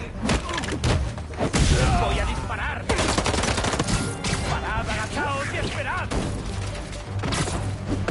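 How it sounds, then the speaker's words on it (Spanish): Gunfire bursts in the Spider-Man 2 video game on PS5 Pro, loud and dense, mixed with thuds, crashes and busy combat effects, with a Spanish-speaking voice talking over the action. "¡Voy a disparar!"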